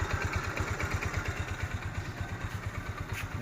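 A Rusi Rouser NS150 motorcycle, four years old with a stock, unopened engine, idles up close with a steady, even low thumping pulse and a light mechanical clatter, running alone without talk.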